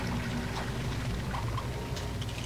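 Steady rushing pour of water filling a space in the Lego Batman Wii game, a continuous close wash of liquid with no voices.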